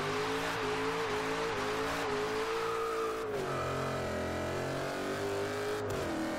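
A Dodge Challenger SRT8 Hellcat with 707 horsepower launches on a highway in Forza Horizon 2, its supercharged engine revving hard and rising in pitch through several gear changes, loud and close, with brief tire noise.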